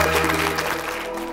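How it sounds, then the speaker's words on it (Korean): Studio audience applause during a Korean TV antiques appraisal show's March 1st Independence Movement Day special, a dense, steady wash of clapping at moderate level with no speech over it. "여러분 큰 박수 보내주시기 바랍니다."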